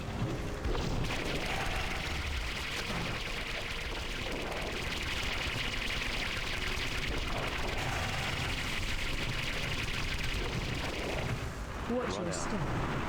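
A World of Warcraft Classic raid boss unleashes an explosive shot blast barrage, a dense continuous roar of booming blasts and rumbling impacts throughout, with a voice talking over it.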